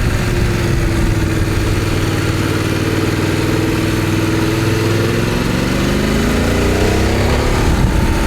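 A Voge DS900 X motorcycle engine pulls hard uphill in third gear at about 28 mph, a loud, steady mid-pitched drone with rising harmonics and rushing wind throughout, no talk.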